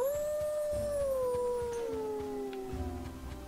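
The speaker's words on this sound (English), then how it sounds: "I hear a dog and I don't see it." A dog howls in a video game, a single long, clear wail that slowly falls in pitch across several seconds, with faint game sounds underneath.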